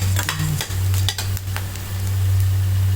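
Sago pearls fry and pop in ghee, a dense, loud sizzle with spoon scrapes against the pan over a steady low hum.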